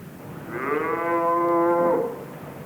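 A single cow gives one loud, close, drawn-out moo lasting over a second, rising and then fading, alone against a quiet background.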